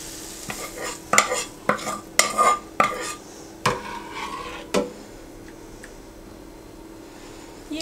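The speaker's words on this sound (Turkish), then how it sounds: "Üzerine de şöyle tereyağı, pul biber ve karabiber yaktım." Butter with red chili flakes and black pepper sizzles in a small pan while a spoon clinks and stirs in brisk strokes, then the steady hiss carries on alone.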